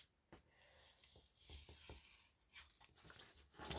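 Paper being cut for a handmade house-shaped album project, heard as quiet, sparse snips and soft scraping rustles in a still room.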